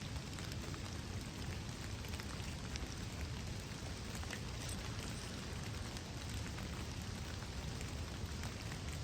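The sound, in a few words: rain falling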